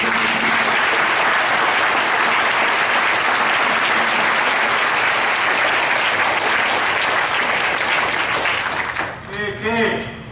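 Audience applause fills a museum gathering at the sixth annual pilgrimage to a WWII Japanese-American internment camp site, with dense, steady clapping close by throughout before it thins and a voice comes in at the very end.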